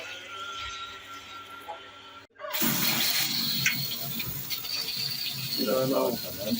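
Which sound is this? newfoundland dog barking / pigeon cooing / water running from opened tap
water running from opened tap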